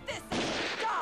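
Gunfire from the video game Xenosaga Episode II, a short burst of shots with a sharp onset that fills the clip, loud and close, with synthesized game sounds around it.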